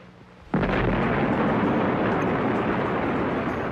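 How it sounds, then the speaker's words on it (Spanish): Nuclear bomb test explosion in the Nevada desert in the 1950s: a sudden loud blast erupts, then a sustained deep rumbling roar fills the rest of the clip without fading. "Ver la explosión de una bomba en el desierto de Nevada"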